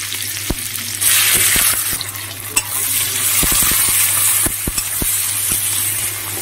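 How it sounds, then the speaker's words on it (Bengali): Steady sizzling of onions frying in a hot wok, with a burst of louder crackle about a second in and several sharp clicks of a utensil stirring. "আমি কিছুক্ষণ পেঁয়াজ দিয়ে দিলাম।"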